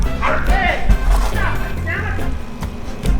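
A neighbour's dog barks outdoors, a few loud woofs and yips scattered through the moment, mixed with a constant background din and some voice-like sound.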